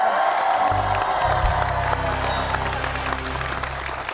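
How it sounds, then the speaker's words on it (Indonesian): A studio audience on an Indonesian TV show claps continuously, a dense wash of applause sitting over a steady low musical hum and staying fairly loud throughout. "Tepuk tangan lagi dong, sekali lagi dong"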